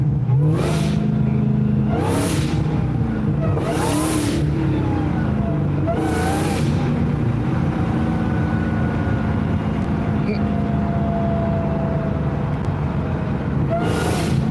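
A Dodge Demon 170 cruises on a 55 mph road, its engine a loud continuous rumble with a low drone throughout, punctuated by several short bursts of wind-like rush early on.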